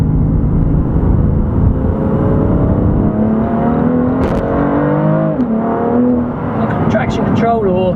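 A 2018 BMW M3 CS engine revs and accelerates, its pitch climbing through gears with brief drops at shifts, loud and close, while someone talks over part of it.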